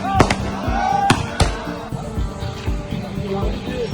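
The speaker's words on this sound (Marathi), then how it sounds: "आज आपण या ठिकाणी फटाके फोडले" Several sharp firecracker bangs burst in quick succession, loud and close, followed by crackling pops against a busy outdoor background of a street celebration in Dongaon, Maharashtra.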